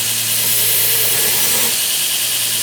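Belt grinder running an 80 grit belt against a tile mosaic Damascus hunting knife blade, a loud, steady broadband grinding hiss that holds evenly throughout with no talk.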